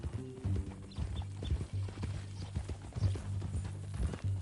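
Horse hooves clip-clopping in a PS4 video game, a steady rhythmic walking gait of close, hollow hoof strikes that runs throughout at moderate loudness.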